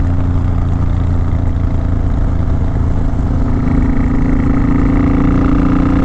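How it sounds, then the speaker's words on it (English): A Suzuki Boulevard motorcycle engine under throttle, a loud steady droning roar that holds throughout with a slight rise in pitch toward the end, no talking. "I love laying on the throttle on this baby"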